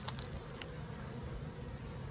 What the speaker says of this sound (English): I wish you could hear the humming and buzzing of these bees as they're working so hard.